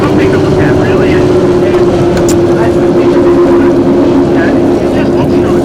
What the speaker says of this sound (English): when those boats are really moving at those sort of speeds and hitting through the airway, it's just amazing